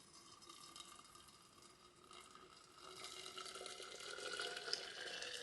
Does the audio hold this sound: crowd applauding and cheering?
no